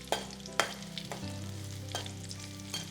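Crushed dried red chillies fry in oil on a low flame for a Kerala-style prawn rasam, giving a soft continuous sizzle with a few sharp scrapes of stirring, no voices.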